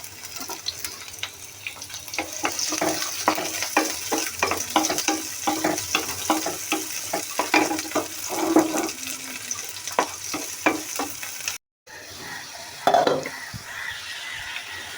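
Onions and green chilies frying in mustard oil, a constant close sizzle punctuated by frequent sharp stirring scrapes against the pan, with a brief cut near the end.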